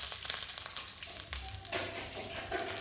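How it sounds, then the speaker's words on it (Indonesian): An egg fries in a home kitchen pan, a close, quiet sizzle and crackle with a few brief pops and clatters, no one talking. "ini aku goreng telur dulu"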